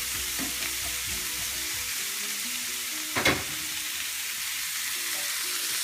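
Chicken stir fry sizzles steadily in hot oil, a continuous close frying hiss with a brief louder crackle or stir midway, no voices.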